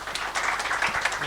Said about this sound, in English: So a big round of applause for Maarten Scholz.